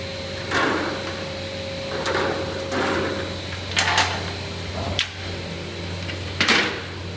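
A TSJ 37T automatic underpinner joins wood picture frame corners in a workshop. It gives a series of repeated mechanical pneumatic thumps and hissing strokes, each a second or so apart, over a steady machine hum, with no talking.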